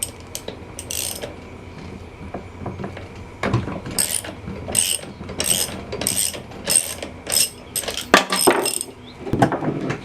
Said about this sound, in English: removing the spark plug.